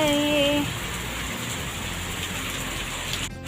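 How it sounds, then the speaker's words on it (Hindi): Heavy rain pours down steadily outdoors at a home where a cow is being fed, a dense, loud hiss that fills the whole stretch, with a brief voice-like tone at the start. "धुआंधार बारिश फिर से लग गई"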